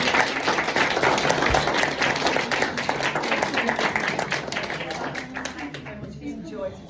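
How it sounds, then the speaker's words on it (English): A group applauds Sue and Denny with dense, continuous clapping that carries through and tapers off, with voices mixed in. "can we manage a big round of applause for Sue and Denny"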